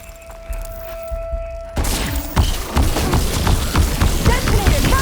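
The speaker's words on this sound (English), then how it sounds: "Detonated! Right on target!" An explosion detonating in Horizon Forbidden West, a sharp loud blast after a quieter opening, followed by a flurry of impacts, thuds and combat noise; a voice speaks in the mix.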